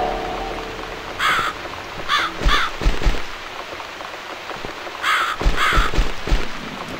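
Crows caw in The Cat Lady video game, in two bursts of several harsh calls each, over a steady patter of rain.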